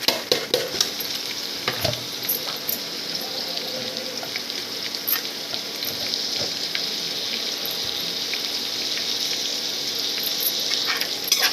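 Chopped onions stirred and frying in hot oil in a pan, a continuous bright sizzle with scraping stir strokes and occasional clinks, close and steady throughout.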